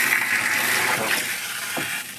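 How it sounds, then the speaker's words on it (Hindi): Water rushes steadily and close by during a Sawan Monday puja outing, a continuous hiss and gush with no voices over it. "पानी की आवाज़ ज़्यादा आई"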